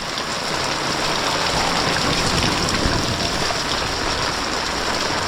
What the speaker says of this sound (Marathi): पाऊस हा पाऊस ऐकायचं नाव घेत नाही आहे